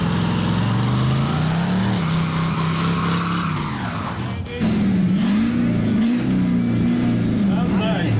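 A car engine in a racing simulator game revs hard through its tailpipe, a loud sustained drone that climbs and falls in pitch, dips briefly midway, then surges back with rising and falling revs.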